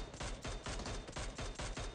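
Rapid, evenly spaced gunshots from a semi-automatic weapon in the mobile battle game PUBG Mobile, about eight loud reports in under two seconds with no talk.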